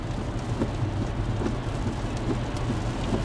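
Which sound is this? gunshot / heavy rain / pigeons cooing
heavy rain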